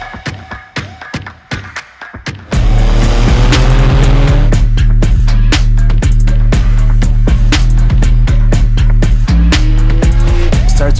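A Porsche 911 (992) on a test drive, its engine revving loudly and close, then held at a strong, sustained roar with rising and falling pitch as the car is driven hard under braking, with sharp clicks and thumps from the cabin.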